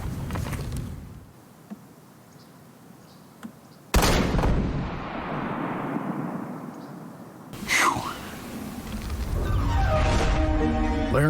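Two loud, sharp shots from a Hawken muzzleloader rifle loaded with patch and round ball, fired outdoors while elk hunting in Idaho, each blast followed by a long fading boom rolling across open terrain, with quieter ambience between them.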